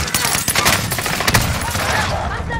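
Gunfire in the Warzone battle royale video game, a loud, rapid burst of automatic shots rattling continuously, with a voice faintly present underneath.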